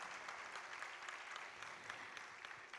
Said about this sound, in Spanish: Hay que brindarles un fuerte aplauso a las chicas del Centro Gallego de Maracaibo